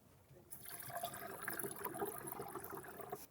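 Tap water pours into a small separation tank of a homemade hydrogen generator, a steady splashing fill that starts abruptly after a brief quiet moment and runs on at a close, moderate level.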